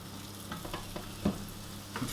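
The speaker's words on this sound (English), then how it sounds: "I'm going to put a good splash of oil in it, and then I'm going to stick in a piece of fish." A piece of fish fries in a good splash of oil in a pan, giving a close, steady crackling sizzle with a few louder pops and spits over about two seconds, without talk.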